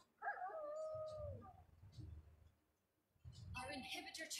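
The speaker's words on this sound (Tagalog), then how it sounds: "Namatay ulit ang aso natin." A dog howls as it dies in a video game, a drawn-out wavering cry followed by a second higher whining burst, with game sounds and low rumbles between the calls.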